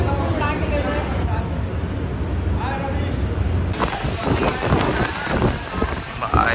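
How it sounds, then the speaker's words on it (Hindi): Strong gusty wind buffets a tented outdoor retreat camp, roaring and rumbling into the microphone with bursts of flapping, while people talk throughout. "भाई बहुत तेज हवा चल रहा है जोरदार,"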